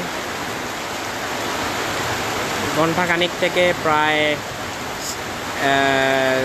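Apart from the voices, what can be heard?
heavy rain in Sylhet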